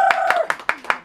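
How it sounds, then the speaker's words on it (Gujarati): At the opening of a 99 store in Ahwa, a group claps sharply in a quick, even rhythm of about five loud, close beats, with a voice trailing off at the start. "ટંડડન તાળી પાડા જોરદાર તાળી પાડા।"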